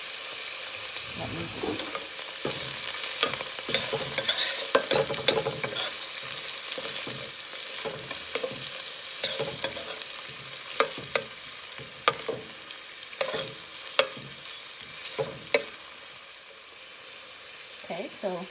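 Ham and vegetables saute in a pot for seasoned yellow rice and red beans, a continuous close sizzle broken by repeated spoon scrapes and clanks against the pot, with a brief spoken aside.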